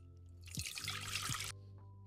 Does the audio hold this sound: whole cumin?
no